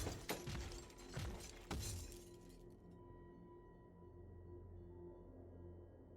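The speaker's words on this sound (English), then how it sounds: "All the tinkling, crashing." Tinkling, crashing glass-shatter card effect from Magic: The Gathering Arena, with several sharp breaking bursts in the first two seconds, then a sustained shimmering tone that fades out.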